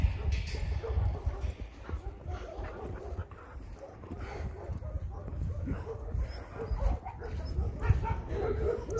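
Dogs at an animal shelter bark in overlapping, scattered bursts against a busy, rumbling background, fairly loud and close, with people talking among them.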